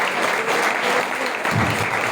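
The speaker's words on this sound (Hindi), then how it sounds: "ताली बजा के प्रभु का धन्यवाद करें।" A church congregation clapping in thanks to God during a Hindi sermon, a continuous, fairly loud patter of many hands with no voices over it.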